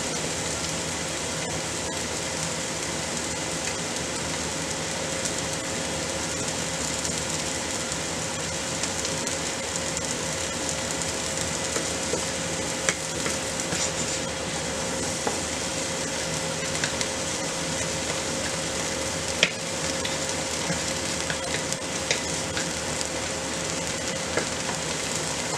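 Pinakbet vegetable stew with meat, garlic and onion cooking in a pan, giving a steady, even sizzle and crackle that continues unbroken with small pops throughout and no talking.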